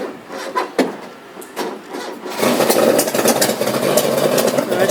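A classic hot rod engine, car number 162, is cranked in the pits at an Ipswich race meeting; after scraping, rubbing noises it catches at about two seconds and settles into a loud, steady, close running roar.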